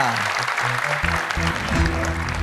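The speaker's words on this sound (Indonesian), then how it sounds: "Tepuk tangan dong sekali lagi." Studio audience applause at an Indonesian televised Quran memorization show, steady dense clapping with background music underneath.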